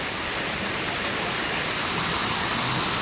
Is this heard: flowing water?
yes